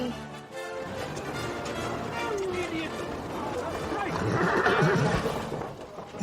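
A carriage horse neighs and whinnies amid outdoor crowd noise and talk, the call rising in the middle and loudest toward the end.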